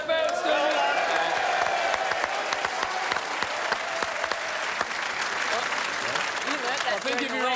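A studio audience at a televised footy show claps and cheers continuously, with sharp individual claps and whoops over a broad wash of applause, and some voices mixed in underneath.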